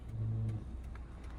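A car engine on a steep hill start takes a light touch of accelerator at half clutch, producing a brief low hum that rises slightly and then settles within about a second.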